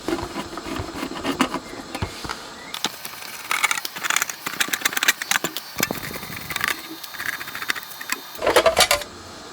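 Screws are backed out of the flat bottom cover plate of a vintage guitar effects pedal, likely with an electric screwdriver, in short whirring bursts and small metallic clicks close up, with pauses between screws.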